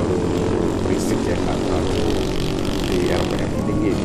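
A Vespa Strada P150SE scooter engine drones steadily at moderate revs, dense and continuous throughout, with a faint voice partly audible beneath the hum.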